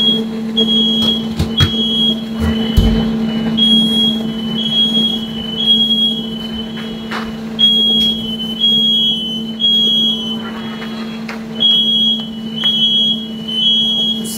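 Indoor fire alarm in a Canadian home going off, a loud, piercing electronic tone that beeps in regular repeating bursts with short pauses, sounding throughout over faint household noise.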